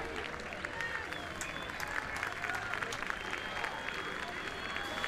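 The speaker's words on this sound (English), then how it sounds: "As you can see the crowd clapping there." A crowd claps at a school rugby match between Selborne College and Grey College first teams, steady applause spread across the stands at moderate distance, with a commentator's voice faintly over it.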